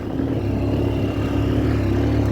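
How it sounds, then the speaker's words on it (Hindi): A motorcycle engine drones loud and steady up close, labouring at a constant strain without pause as it rides through desert sand dunes. "यहाँ पे बाइक कितनी मुश्किल से चल रही है, कितनी आवाज़ कर रही है।"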